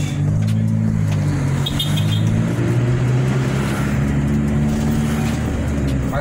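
A Chevrolet Celta 1.0 engine hums steadily close by with a low, droning tone as the car drives, continuous road-vehicle noise throughout with no pauses.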